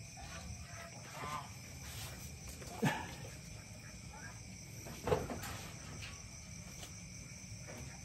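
Insects chirp in a steady, faint drone indoors, with a couple of soft knocks in the background.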